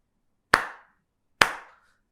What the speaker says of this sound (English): You cannot use only one hand to make a clap.